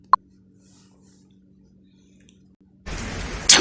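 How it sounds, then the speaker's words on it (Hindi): A single sharp mouse click on play for a streaming video, one brief tick in near silence with a low hum, then a burst of broadband noise as playback starts. "मैं इस पे प्ले पे क्लिक करता हूँ"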